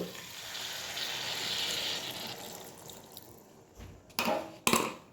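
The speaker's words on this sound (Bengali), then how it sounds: "এবার এর মধ্যে দিয়ে দিচ্ছি জল" Water being poured into a pan where a fish head is frying with spices, producing a steady hiss and sizzle, followed by a few louder splashes near the end.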